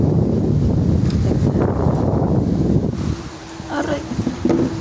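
Strong wind buffets the microphone in loud, rushing gusts that ease partway through, with someone speaking briefly over it near the end.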